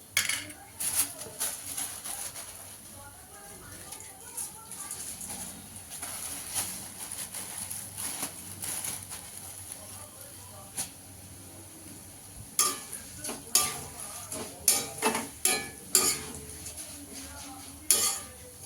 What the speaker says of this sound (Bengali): এবার এই তেলে চিড়েটা ভেজে নেব।